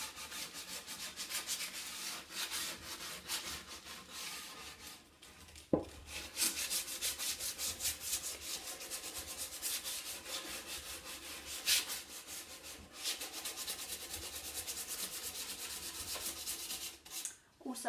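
Sandpaper rubs back and forth over chalk-painted wood furniture to distress the finish, a close, continuous rasping scrape with brief pauses and a few knocks.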